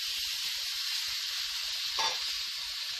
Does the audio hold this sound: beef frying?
yes